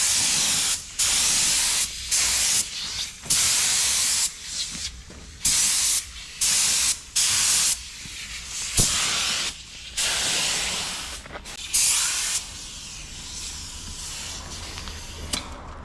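Aerosol spray paint hisses in about ten separate bursts of a second or so each, with short gaps between, applied close up as the first coat on a FIAT 500; no voices.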